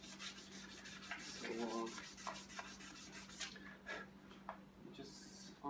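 Sandpaper rubs against a front wheel in a run of scratchy strokes, close and fairly quiet, while someone speaks briefly over a faint background hum.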